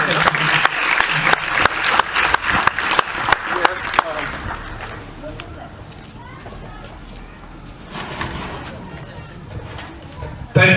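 An audience bursts into loud applause, dense clapping that thins and fades after a few seconds into a quieter murmur of hands and room noise.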